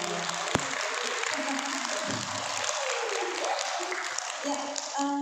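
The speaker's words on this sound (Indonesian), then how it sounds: "Tepuk tangannya dulu teman-teman." Indoor audience applause at a government financial-management briefing, a steady broad wash of clapping lasting the whole stretch, with a few voices and murmurs mixed in beneath it.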